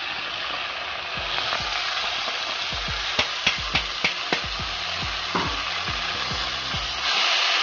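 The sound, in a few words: prepared masala added to dal and stirred in pan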